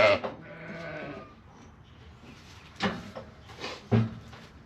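Sheep and lambs on a small farm, with a few nearby bleats that come first at the start and again later, separated by quiet stretches and some faint knocking.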